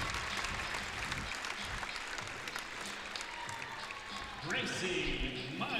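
Spectators at a women's college basketball national championship game in Billings, Montana applaud steadily, a broad wash of clapping from a standing crowd while a commentator talks over it.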